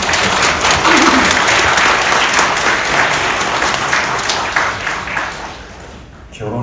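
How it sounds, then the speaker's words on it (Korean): Wedding guests clap together in a steady wash of applause at a wedding ceremony, loud at first and slowly thinning out, with some murmured voices mixed underneath. "그분들 위해서 한번 격려의 박수를 한번 보냈으면 좋겠습니다."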